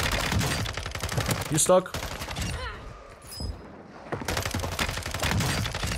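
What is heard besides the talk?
Hurricane SMG gunfire in a video game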